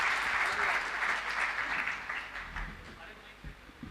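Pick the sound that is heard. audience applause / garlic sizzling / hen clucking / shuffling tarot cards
audience applause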